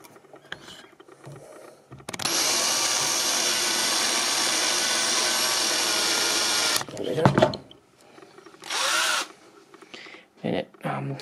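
A small drill bores a hole through the spectacle plate of a Hornby model railway semaphore signal, giving one steady loud whine of about four and a half seconds, followed by short scraping and handling noises.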